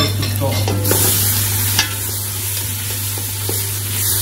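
Potatoes and onion sizzle and fry steadily in a pan while being stirred, with a continuous crackle and occasional scraping taps from the utensil, close and loud.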